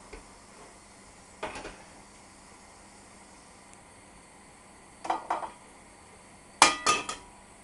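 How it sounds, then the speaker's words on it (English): A cooking pot slid across a gas hob to another ring in a home kitchen: a few quiet metallic scrapes and clanks, with one short knock, then a louder clattering pair of knocks at the end. "So I'll move that over to the other gas ring."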